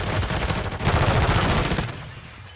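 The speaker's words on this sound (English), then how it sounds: "This guy is running about with a shotgun." Shotgun blasts in Call of Duty: Modern Warfare III (2023) on the Stash House map, a loud, dense run of rapid booming shots over about two seconds that then fades into a brief tail.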